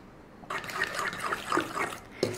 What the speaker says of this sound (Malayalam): ഞാനിതിലേക്ക് ഇനി 200 ഗ്രാം ഉരുക്കിയ ബട്ടർ ഒഴിച്ചു കൊടുക്കാൻ പോവുകയാണ്